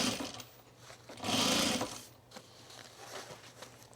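A sewing machine stitches a fabric pen tray, a close whirring run of rapid needle strokes that swells louder for about a second in the middle, then continues more quietly, with no talking.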